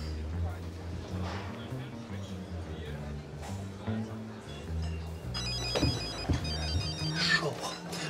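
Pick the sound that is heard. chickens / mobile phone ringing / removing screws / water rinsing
mobile phone ringing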